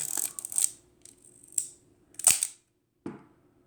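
A 35mm Ihagee Exakta VX 1000 SLR fitted with a Jena Pancolar 50mm f2 lens, its shutter set for a two-press timed exposure, snaps with several close, sharp mechanical clicks, ending with a crisp closing click after a brief silence.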